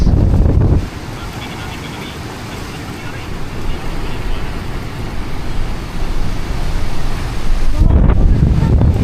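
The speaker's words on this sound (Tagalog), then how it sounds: "Grabe, lakas ng hangin doon." Strong typhoon wind gusts buffet the microphone in heavy, rumbling blasts, loudest at the start and end, with a roaring steady wash between gusts; no words are clearly spoken.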